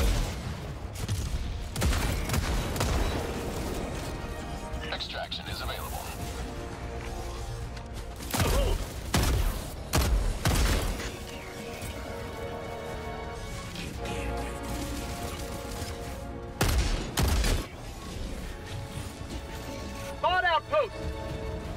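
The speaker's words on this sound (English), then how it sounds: "Ooh, I love that autocannon" An autocannon firing in the video game Helldivers 2: heavy, booming shots in spaced bursts amid battle noise, with a voice talking over the action.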